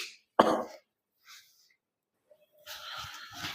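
A single sharp cough breaks the quiet, followed by a softer throat sound and some faint rustling.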